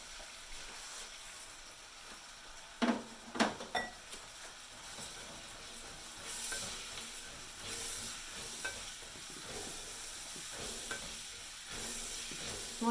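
Long grain rice is stirred in a hot oiled pan, with a soft steady sizzle and several sharp scraping and clacking stirring strokes, moderately quiet and without talk.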